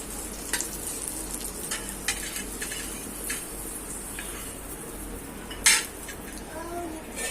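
Fried slices of eggplant and egg are moved onto a plate in a home kitchen, bringing scattered clinks and scrapes of a utensil against a pan and dish over a faint, steady sizzle, with one sharper clatter near the end.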